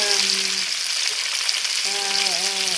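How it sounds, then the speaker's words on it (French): Green celery sizzles and fries in a hot pan with a loud, constant crackling hiss. A faint humming tone rises and falls over it at times. "céleri verts tout d'abord à la poêle"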